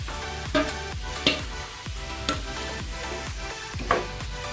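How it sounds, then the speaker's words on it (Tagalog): Cauliflower and mushroom cooking in a pan over medium heat with a little water, a steady sizzle broken by repeated stirring scrapes and utensil knocks at a fairly even rhythm. "Next, ilagay na po natin ang cauliflower. Lagyan natin ang mushroom."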